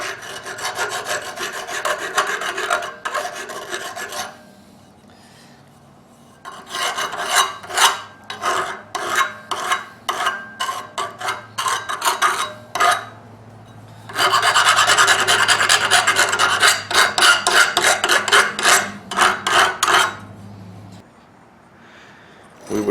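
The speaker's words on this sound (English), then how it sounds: "we're going to take a finer file, and we're just going to blunt that edge" A fine file rasps across the edge of a Fox Ridge Arms Flint and Steel custom knife-kit blade, blunting it in loud, close bursts of rapid back-and-forth strokes separated by short pauses.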